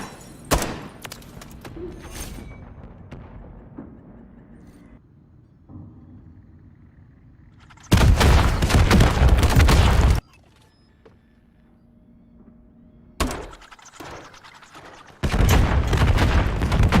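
Spawn tube launcher shots spammed in Modern Warfare III on the Highrise map, bursts of loud booming gunfire and explosions in two long dense barrages, separated by quieter stretches of scattered shots and rumbling.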